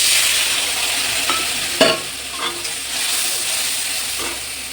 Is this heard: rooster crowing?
no